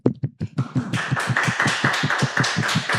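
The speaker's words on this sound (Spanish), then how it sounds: "Un aplauso." An audience at a UNAM chess event applauds, starting with a few scattered claps that quickly swell into dense, steady clapping, close and loud, with no talk over it.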